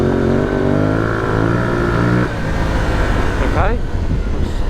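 An Aprilia Tuareg 660 motorcycle accelerates on gravel with traction control engaged, its engine note climbing through revs, dropping off, then rising sharply again, loud and close with wind and road roar underneath.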